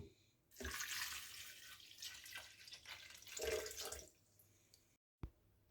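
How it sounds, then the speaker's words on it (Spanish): Half a litre of water pours into a food processor holding strawberry tree fruit, a steady splashing rush for about three and a half seconds, followed by a short clunk. "Ahora vamos a colocar los frutos en una procesadora y le agregamos medio litro de agua."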